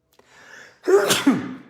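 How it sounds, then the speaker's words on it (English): A quick intake of breath builds up, then one loud, close sneeze explodes, trailing off with a brief breathy tail. "There you go, sneezing away."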